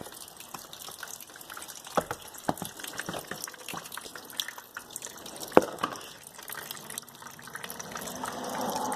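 Water drains and drips from a Mazda Miata, a faint continuous trickle with scattered irregular drips and occasional sharper droplet taps, building slightly toward the end.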